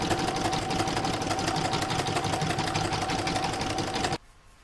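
An embroidery machine stitches an in-the-hoop Santa bag design with a fast, even mechanical whir and rapid needle rhythm. It runs loud and close, then stops abruptly near the end.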